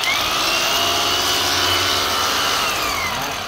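A 500W corded power tool with speed control and hammer mode runs steadily, a loud continuous motor whine that holds level throughout, close and alone with no talk.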